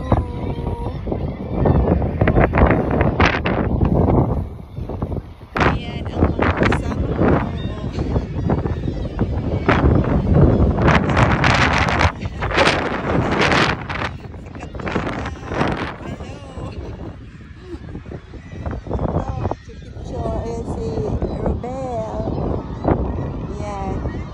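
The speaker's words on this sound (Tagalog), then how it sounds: "Sobrang hangin, grabing hangin" Strong gusty wind buffets the microphone in loud, roaring bursts, with people talking underneath, by water with seagulls.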